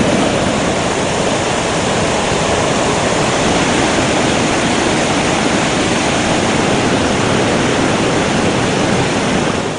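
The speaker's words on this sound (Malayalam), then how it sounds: "തട്ടുതട്ടായുള്ള പാറക്കെട്ടിലൂടെയാണ് വെള്ളം താഴേക്ക് പതിക്കുന്നത്." A monsoon-swollen waterfall at Kambam in Kasaragod district pours down terraced rock ledges, making a loud, constant, broadband roar with no pauses and no voices.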